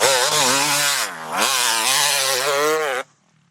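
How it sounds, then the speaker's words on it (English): Husqvarna TC250 two-stroke dirt bike engine revving hard close by, a loud, buzzing, raspy tone that rises and falls in pitch before cutting off abruptly near the end. "Everyone likes the 2-stroke sound"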